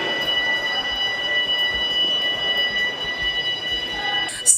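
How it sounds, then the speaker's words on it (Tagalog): An earthquake alarm rings steadily inside the Philippine House of Representatives in the Batasan Complex during a magnitude 5.9 quake, sustained tones over a busy hall, ending in a brief louder clatter. "umalingaw-ngaw ang alarm dahil sa pagyanig ng lindol"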